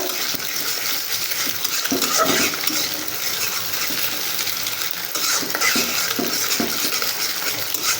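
Egg being stirred in a pan for fried rice, with steady scraping and light clinks of a utensil over a continuous soft sizzle, close and moderately loud with no talking.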